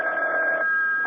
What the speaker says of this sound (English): Reuben, aren't you going to answer the phone?